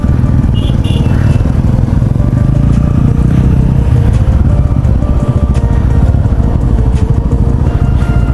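Motorcycles being ridden on a road, a loud, close engine drone with rough revving and rattling clatter throughout, with wind buffeting and no clear talk.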